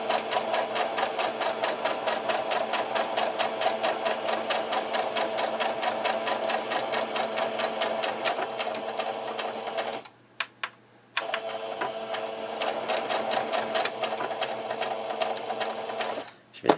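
Sewing machine stitching a homemade fabric face mask, a steady fast mechanical whirring chatter at close range that stops briefly twice before resuming.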